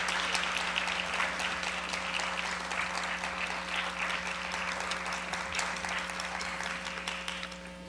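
A large audience at a film contest celebration applauds loudly and steadily, dense clapping filling the room for several seconds before easing slightly at the end.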